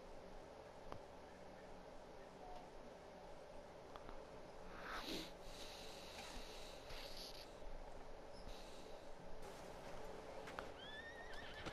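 A horse in the video game Red Dead Online gives a faint, distant neigh and snort over a steady bed of outdoor ambience, with the sparse clip-clop of hooves nearby.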